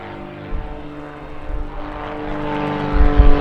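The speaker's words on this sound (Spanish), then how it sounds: "Seguramente su primera pasada sobre nosotros no será del todo discretita, porque para eso es un avión acrobático." An aerobatic propeller airplane passing overhead during an air show training flight, its engine drone rising and swelling louder over a few seconds, with a harmonic whine and low rumble.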